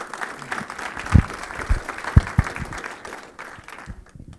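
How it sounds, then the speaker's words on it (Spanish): A conference audience at the Universidad Autónoma de Coahuila claps for a speaker, a dense roomful of applause with a few sharp, close claps standing out before it thins and fades toward the end. "Démosle un fuerte aplauso, por favor"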